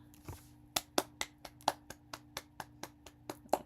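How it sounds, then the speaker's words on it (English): A streamer claps their hands about a dozen times in a slightly uneven rhythm. The claps are close and fairly crisp against a quiet background with a faint steady hum, and nobody talks. "Round of applause, guys."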